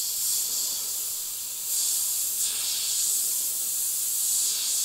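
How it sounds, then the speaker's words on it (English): An airbrush sprays paint while sketching on a skull design with blue candy color, giving a steady soft hiss up close that swells and eases slightly as it continues. "I'm just kind of sketching with the airbrush."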